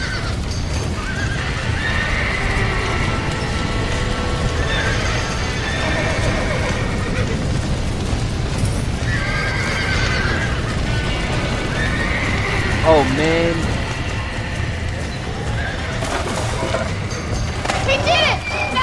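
Horses in a Red Dead Redemption barn mission neigh repeatedly and clip-clop over a steady game soundscape, with excited voices talking over them throughout.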